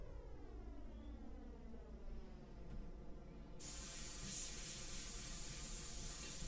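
An airbrush sprays India ink for a portrait painting, a quiet, continuous hiss that jumps sharply louder about halfway through and then stays steady, with no voices.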